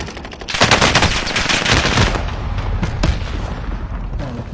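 Rapid automatic gunfire from Call of Duty: Warzone, a dense loud burst of repeated shots with heavy booming low end, continuing through the whole stretch with no talk over it.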